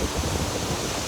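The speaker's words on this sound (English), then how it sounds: "I'm literally right in front of the waterfall" Dense, steady roar of rushing water from right in front of a waterfall on rocky terrain in Thailand, loud and close with constant broadband noise and no voices.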